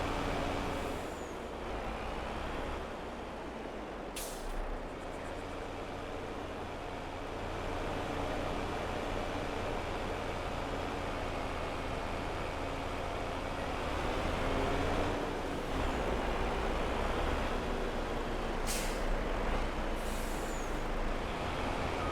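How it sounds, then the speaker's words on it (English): Trucks in Farming Simulator 22 drive across a field spreading fertilizer, giving a steady rumbling engine drone throughout with a few sharp air-brake-like hisses breaking through. "I am kind of driving all over it with these trucks to get the fertilizer on"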